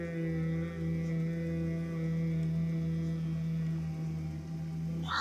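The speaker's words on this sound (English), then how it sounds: "Hum on the exhale." A person hums one steady, sustained tone on a slow exhale during a restorative breathing break with the ears closed, even and unbroken for the whole stretch.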